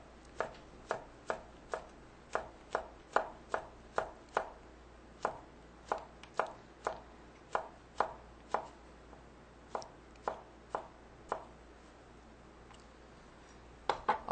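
A knife slices a vegetable into 0.3 cm thick slices on a cutting board, producing a long run of crisp, evenly spaced chops at a steady rhythm with a brief pause near the end before resuming.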